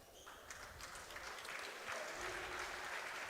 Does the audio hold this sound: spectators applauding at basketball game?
yes